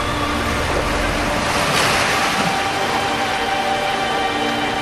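Steady wash of harbour waves at low tide in a Sims 2 machinima, a continuous loud surf-like roar with a gentle swell in the middle and no voices.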